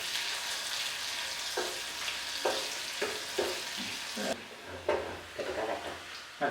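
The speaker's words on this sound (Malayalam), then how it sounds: "ഇനി നമുക്കതിലേക്ക് ചെറിയ ഉള്ളി വറവിടാണ് വെളിച്ചെണ്ണയിൽ." Small onions fry in coconut oil, a steady sizzle broken by intermittent stirring scrapes and knocks against the pan, close and moderately loud.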